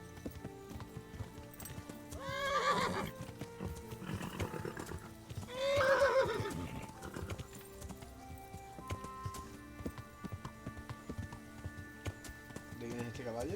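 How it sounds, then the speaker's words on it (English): A horse in a video game whinnies twice, fairly loud and drawn out, while hooves clip-clop steadily underneath, with gameplay sound and a voice talking over it. "Creo que este es el caballo de Jackie."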